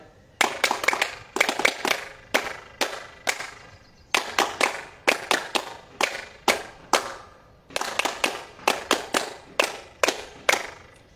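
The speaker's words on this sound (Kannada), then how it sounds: "ಚಪ್ಪಾಳೆ." A morning yoga class claps hands in quick rhythmic bursts of four or five sharp, close claps, separated by brief pauses and repeated steadily throughout.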